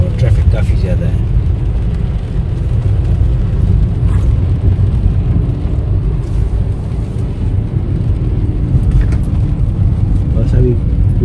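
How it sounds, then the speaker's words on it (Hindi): Heavy road traffic in rain near Gujar Khan, Pakistan: a loud, continuous low rumble of engines and tyres hissing on wet pavement, steady throughout with little variation. "बारिश ने बिल्कुल नहीं थमी और ट्रैफिक काफ़ी ज़्यादा है"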